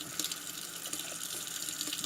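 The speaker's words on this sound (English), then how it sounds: "Just rinse them, dip them periodically." Running water from a tap pours steadily while parts of a Remington 1858 muzzleloader revolver are rinsed, a continuous close splashing hiss with small irregular spatters and no talk.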